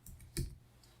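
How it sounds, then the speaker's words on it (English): One soft click from a computer keyboard key as a number is typed, close and quiet, set against a faint background hiss. "I could type a number in there"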